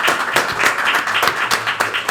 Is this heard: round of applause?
yes